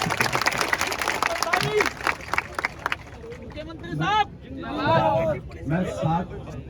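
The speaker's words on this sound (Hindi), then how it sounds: "एक बार जोरदार तालियां मुख्यमंत्री जी को" A crowd applauding the Chief Minister at a youth protest, dense clapping in the first half that thins out, followed by loud voices speaking over scattered claps.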